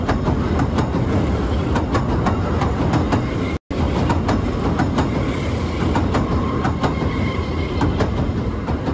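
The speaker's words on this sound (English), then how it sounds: "operated electric trains to run along the pier." Electric train running along Southend Pier, a steady rolling rumble with rhythmic clickety-clack of wheels over rail joints throughout, briefly cut by a short gap.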